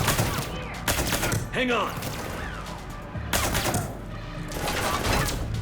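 Gunfire in the Mass Effect 3 video game, a dense fusillade of repeated shots in bursts through most of the scene, loud and close, with someone speaking briefly over it.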